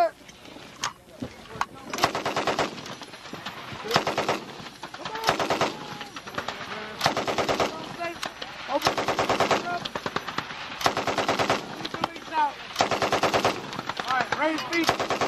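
An M60 machine gun fires during U.S. Army training at a range, loud repeated bursts of rapid automatic shots separated by short pauses, with voices talking faintly between bursts.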